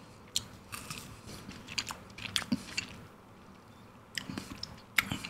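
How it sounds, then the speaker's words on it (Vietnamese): Someone bites and chews a Merino Thai chè ice cream with durian and semi-dried jackfruit, giving close, soft crunches and wet squishy chewing in uneven bursts. "Vừa cắn trúng miếng sầu riêng."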